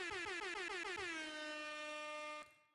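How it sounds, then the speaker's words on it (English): A loud air horn sound effect opens a podcast show: a few rapid stuttering blasts that merge into one sustained blaring tone before cutting off abruptly. "I gotta let the air horns ring off at the top of the show"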